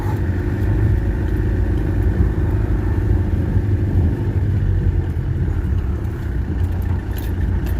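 A Peugeot 404 diesel car engine drones steadily while driving on a high, steep mountain pass road in the Baviaanskloof, a continuous low rumble with no break.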